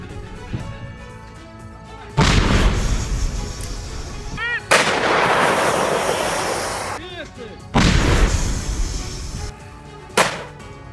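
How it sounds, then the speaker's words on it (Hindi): Artillery bombardment in the Russia-Ukraine war: three heavy, booming explosions a few seconds apart, each a loud broadband blast with a long rumbling decay, heard at a distance. "सैन्य ठिकानों पर आर्टिलरी से जबरदस्त बमबारी की गई है।"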